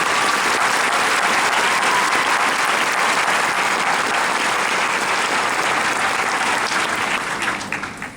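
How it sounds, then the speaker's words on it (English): Sustained, dense applause from a large audience at a police academy graduation ceremony, loud and steady for several seconds before tapering off at the end. "Let's have a round of applause."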